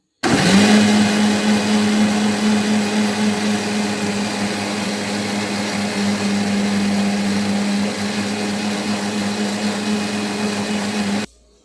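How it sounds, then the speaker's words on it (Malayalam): A blender grinds apple and ginger with water, a steady loud motor whine running for about eleven seconds without a break before cutting off abruptly, with no voices over it. "കുറച്ച് വെള്ളം ഒഴിച്ചിട്ട് നമുക്ക് ഒന്ന് അരച്ചെടുക്കാവേ."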